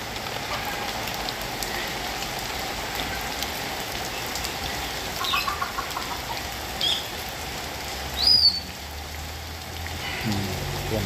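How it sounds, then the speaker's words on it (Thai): Rain falls steadily outdoors at a café garden beside a bird enclosure, a soft, even patter with a few faint chirps and knocks and no speech. "ฝนตกลงมาเย็นสบายนะครับ"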